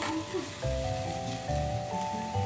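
A large cut tomato fries in a pan with cinnamon, clove and cardamom, giving a soft, faint sizzle beneath a person talking.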